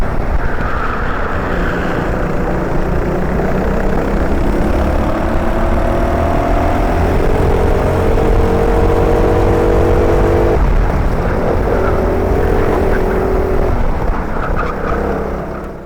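Racing kart engines howl loudly as they accelerate hard out of corners during a pro kart race, several rising, whining pitches overlapping and sweeping upward in close, continuous succession.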